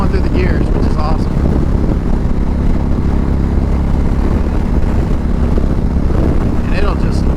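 A custom 2019 Indian Chieftain Dark Horse motorcycle accelerates steadily through its gears, a loud continuous engine drone with heavy wind rush at the microphone and a rider's voice talking over it.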